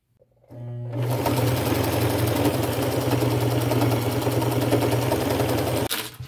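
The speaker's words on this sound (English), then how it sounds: "I will just use a straight stitch on this one because these are kind of narrow." A sewing machine running a straight stitch around the edges of narrow headband pieces made from upcycled material, a steady loud whirring hum close up that starts abruptly and stops near the end, with no talking.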